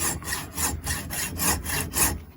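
A hand saw cuts back and forth through material in rhythmic strokes, about six rasping pulls, close and clear with no talking.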